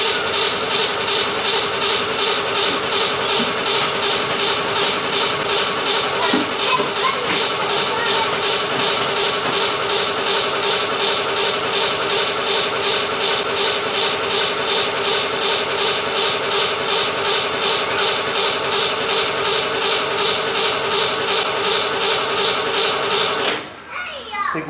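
A C2 Corvette engine, left sitting for ten years, drones loud and steady for over twenty seconds with a pulsing, rough cranking texture before cutting off abruptly near the end.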